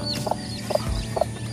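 Three evenly spaced clucks from a protective native mother hen guarding her newly hatched chicks, close and moderately loud over a steady low hum, with no voices.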